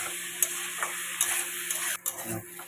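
Spice paste of cumin, chilli and turmeric stir-fried in a pan: a faint, steady sizzle with a few soft spoon scrapes and taps, and no talking.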